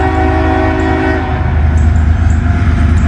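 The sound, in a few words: CSX freight train passing, sounding its horn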